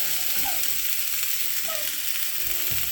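Burger meat and onion sizzle in a hot pan, a steady, bright hiss close up with a few faint scrapes and clicks, no talking.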